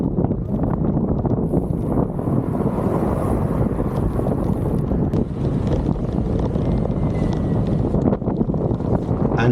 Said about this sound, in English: It was a bit windy, but not that windy.